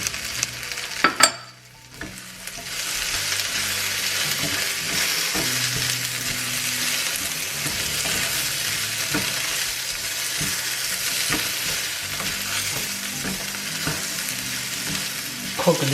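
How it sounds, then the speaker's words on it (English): Chorizo sizzles and fries steadily in a pan while being stirred, with a loud continuous crackle and scattered utensil scrapes and clinks, after a brief clatter at the start. "So now I add the chorizo."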